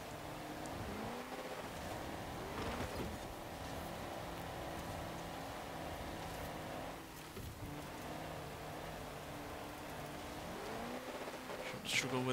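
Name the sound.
1600 horsepower car engine in the video game Forza Horizon 4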